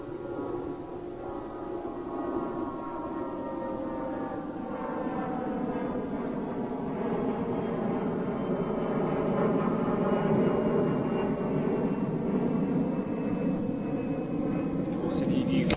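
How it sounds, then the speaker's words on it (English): A Boeing 747-8 freighter departs Chicago O'Hare, its jet roar a steady broad rumble with a slowly falling whine, heard from a distance and building gradually over about fifteen seconds. "She came in this morning and she's going out now. Yes, 747-8 freighter."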